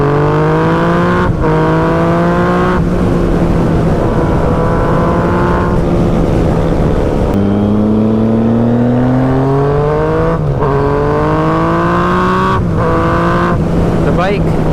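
A 2016 Yamaha FZ-09 motorcycle on street-oriented tires accelerates hard, its engine note climbing through several gear changes in loud repeated sweeps, close and continuous, with a person talking over it.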